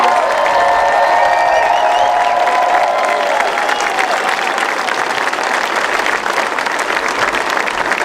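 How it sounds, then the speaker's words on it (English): Loud, sustained applause from a large audience, steady clapping with some cheering mixed in throughout. "let's give the governor another round of applause."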